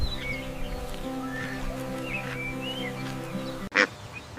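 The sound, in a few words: duck quacking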